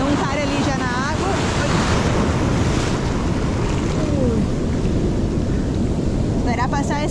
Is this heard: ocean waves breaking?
yes